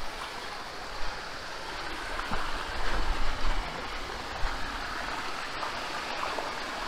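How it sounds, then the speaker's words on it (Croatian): Rushing water of the Sopot waterfall and its stream in the Žumberak hills, a steady broadband roar that stays constant and close throughout with no voices. "Još malo sopotskog slapa, penjemo se ovdje pa da vidimo kako to izgleda."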